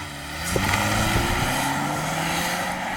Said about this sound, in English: It's quite noisy, this engine.